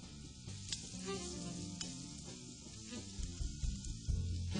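Onions sizzling on a grill, a quiet continuous hiss and crackle with scattered sharp pops and a low rumble near the end.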